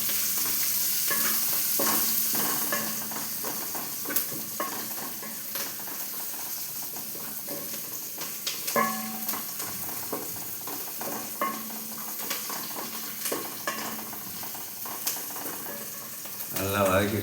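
Onions sautéing in oil in a pan with a little salt, a steady sizzle under repeated stirring and spoon scrapes against the pan, with speech heard faintly over the cooking.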